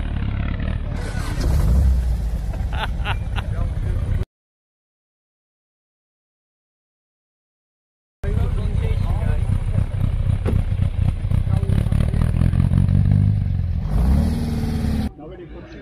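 An Austin Healey's engine revs hard and roars in loud sustained bursts, cut by a stretch of silence, with a voice speaking between revs.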